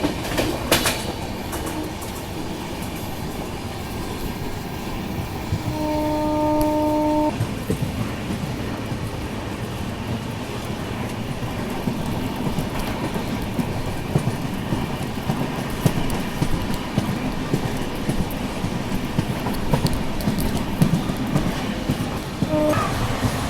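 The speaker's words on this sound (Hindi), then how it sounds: "मराठवाड़ा एक्सप्रेस चलो इधर से निकल गई" The Marathwada Express rolls by on an Indian rail section with a steady rumble and clatter of wagons and wheels, and a brief horn sounds early on, heard from aboard another train.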